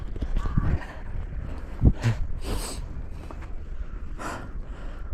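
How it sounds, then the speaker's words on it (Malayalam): Horses kept for rides in Kashmir give a few soft snorts and breathy noises amid faint hoof clopping and outdoor background noise in a cool wind, with no speech. "കുതിരകൾ ഇഷ്ടംപോലെ ഇവിടെ. കുതിര സവാരി ഉണ്ട്."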